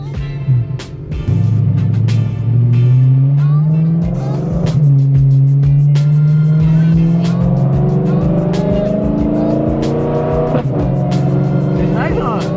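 A BMW M3 with a newly repaired transmission is driven on a road test, its engine droning steadily and rising in pitch through the gears, loud and close from inside, with people talking over it.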